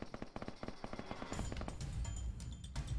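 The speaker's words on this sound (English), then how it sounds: "was that you shooting?" Rapid gunshots in DayZ gameplay, a quick string of cracking reports at first, then denser overlapping fire with a heavier low rumble, fairly loud, no talking.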